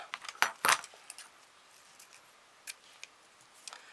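Scissors snipping ribbon while tying small craft knots around a fork, giving a few sharp, close metallic cuts near the start followed by sparse faint clicks in a quiet room.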